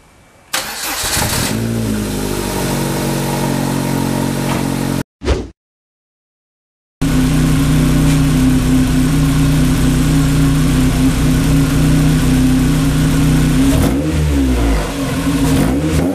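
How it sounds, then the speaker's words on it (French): Lotus Elise S1 engine started and left idling to warm the oil before an oil change, a close, loud, steady mid-pitched idle with a brief gap near the start, then a continuous hum. "je vais démarrer un peu le moteur 10 minutes pour faire chauffer un peu l'huile"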